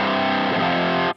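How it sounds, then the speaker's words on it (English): Electric guitar played through a Wampler Dracarys distortion pedal, a thick saturated sustained chord with amp-like gain, loud and alone before cutting off abruptly. "It's like an amp distortion"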